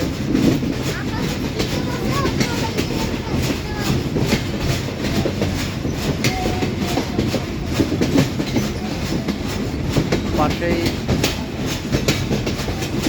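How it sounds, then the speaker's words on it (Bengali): A train rolls steadily along the tracks with a loud, continuous rumble and rhythmic clickety-clack of wheels, heard from on board. "ঝিকঝিক ঝিকঝিক শব্দ করে ট্রেন চলছে।"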